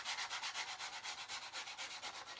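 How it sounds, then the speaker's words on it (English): Sandpaper rubbed by hand over a surface in quick, even back-and-forth strokes, a rhythmic scratchy hiss repeating about six times a second, close and steady with no talking. "Look at this, sanding away."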